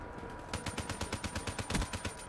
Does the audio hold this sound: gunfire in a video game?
yes